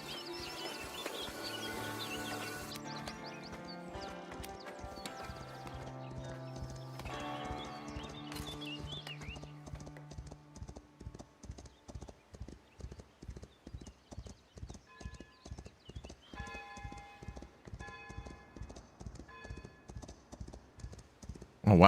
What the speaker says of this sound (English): I can hear somebody riding up on their horse.